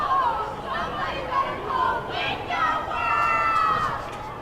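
A baseball crowd at a stadium joins in a loose coordinated chant, a broad wash of many voices rising and falling in waves at moderate distance.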